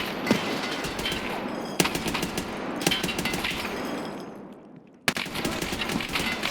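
Automatic gunfire rings out in Escape from Tarkov in rapid sustained bursts, loud and close, broken by a brief pause before another sharp volley resumes.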